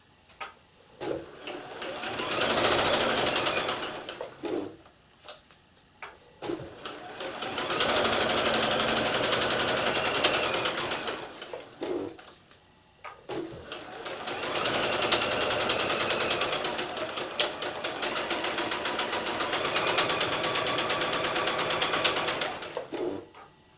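A sewing machine runs in three long stitching bursts, sewing fabric pieces into enclosed seams, with a rapid mechanical rattle, separated by short pauses and a few clicks.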